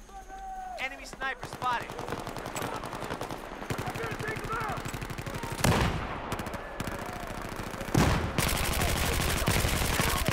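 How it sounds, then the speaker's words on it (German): Video game gunfire in Battlefield 4, with rapid automatic bursts rattling continuously under game sounds and a few heavier shots near the middle and end. "wieder zuerst geschossen, dann gezielt"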